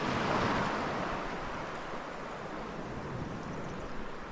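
Ocean surf rolls onto the beach at Little Waterloo Bay, a steady broad wash of waves mixed with wind noise, no voices.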